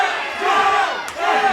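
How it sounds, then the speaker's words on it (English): A wrestling crowd at a Legacy Title match chants loudly and steadily in rhythmic unison, a dense roar of many voices that dips briefly before surging again. "And the crowd chanting"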